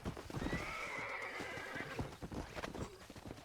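A horse neighs in Red Dead Redemption, a loud drawn-out whinny lasting over a second with hoof clops and snorting around it, close and clear with no talk.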